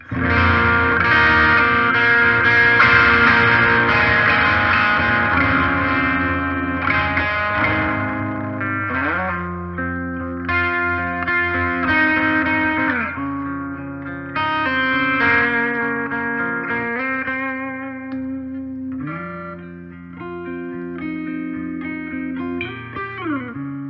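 A clean electric guitar rings through an amp, strummed chords and picked notes with sustained, slightly reverberant tails, steady and fairly loud with no voices.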